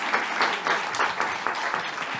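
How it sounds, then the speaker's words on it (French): Conference audience applauding after a presentation on French tech innovation, a dense steady patter of many hands clapping at close range, filling the room without talk. "Merci Ashwina, on peut vous applaudir."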